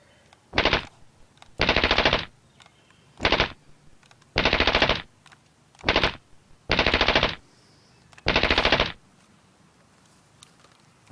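Bursts of automatic gunfire from a firearm, seven separate loud rapid-fire volleys, some short and some about a second long, with brief quiet pauses between them.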